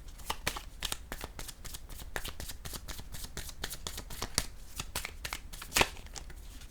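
A deck of cards is shuffled in a steady run of quick riffling clicks close by, low in level with a sharper snap near the end and no voices.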